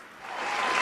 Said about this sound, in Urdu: میں چاہتا ہوں کہ ان کے لیے آپ تالیاں بجائیے